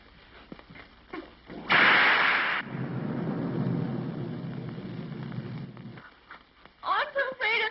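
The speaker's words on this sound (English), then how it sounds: "I'm so afraid of thunder and lightning." Thunder from a storm crashes loudly, then rolls on as a long low rumble over steady rain for several seconds, and a voice speaks briefly near the end.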